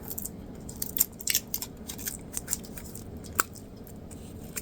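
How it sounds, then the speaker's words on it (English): A cellophane wrapper being pulled off makeup packaging, making sparse, close, crisp crinkles and snaps scattered across a quiet background. "there's a cellophane wrapper"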